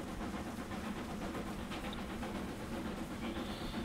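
A Castle class steam locomotive hauling the Torbay Express over a viaduct in Train Simulator gives a steady, dense rumbling roar with a hissing wash on top, continuous and close throughout, with no talking.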